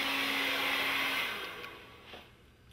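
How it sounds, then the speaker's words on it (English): A handheld blow dryer roars steadily at close range while drying hair over a round brush, then the airflow fades and drops off as it is pulled away, with no talking. "you're going to pull the hair down and with the blow dryer"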